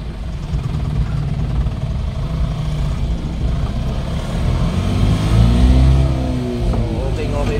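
A Suzuki Super Carry with a 2-cylinder diesel engine on a road test gives a steady, close engine drone that swells briefly near the end before settling back.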